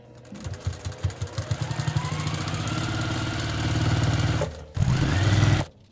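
A sewing machine stitches fabric up close, starting with distinct rapid needle thumps that quicken into a continuous whirring run, pausing briefly before another short burst.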